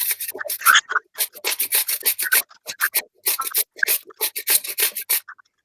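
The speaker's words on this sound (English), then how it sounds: "So I take about that size, about a third of the cucumber, and I basically grate it in thick." A third of an organic cucumber, peel left on, is grated into thick shreds, heard as quick rhythmic rasping strokes, close and crisp, with short pauses between bursts.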